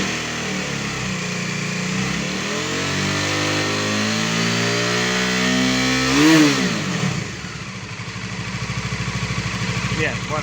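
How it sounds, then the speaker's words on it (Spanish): A Bajaj Dominar 400 motorcycle engine revs up from idle, its pitch climbing steadily to a loud peak before dropping back to a rough, pulsing idle, close by with a voice talking over it. "Vamos a acelerar la moto"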